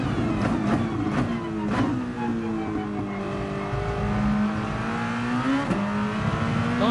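A race car engine revs hard in a racing video game and the driver shifts up early, so the steady engine note keeps climbing and dropping at each gear change, loud and unbroken, with no talk.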